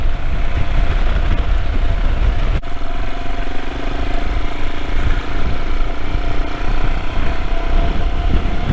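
Royal Enfield Himalayan motorcycle being ridden, its single-cylinder engine thumping steadily under heavy wind rush, close and continuous with a slight pitch change midway.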